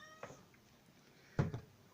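Two short meows from a cat in heat, the first brief and quieter, the second louder and longer a second later, over a quiet room background.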